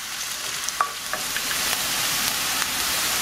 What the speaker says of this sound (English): continue to cook our onions and our jalapeños for about 2 to 3 minutes